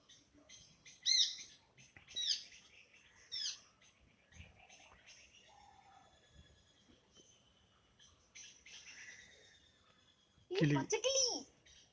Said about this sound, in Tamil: கிளியும் இவ்வாறு சாப்பிடுகிறது.